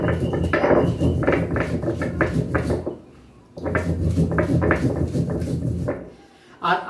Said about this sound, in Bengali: বন্ধুরা বাটনাটা বেটে নিচ্ছি